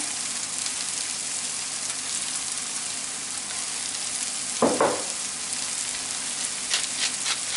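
Mushrooms and garlic frying in a pan, seasoned with salt, pepper and rosemary: a steady broadband sizzle throughout, with a brief louder crackle or stir near the middle and a few sharper spits toward the end.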